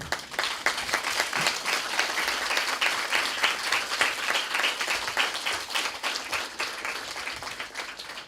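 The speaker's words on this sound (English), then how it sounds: "May I request a standing ovation for Ms. Meera?" Standing ovation from an audience at an interactive session with a civil services topper, continuous dense clapping from many hands, even and sustained throughout.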